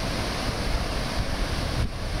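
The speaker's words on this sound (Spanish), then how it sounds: "Sin embargo, ahorita este río trae bastante afluente, como pueden ustedes observar" The San Pedro River at Rosales, Chihuahua, running high and full of water, gives a steady, close, broadband rush of flowing water with no pauses and no voices.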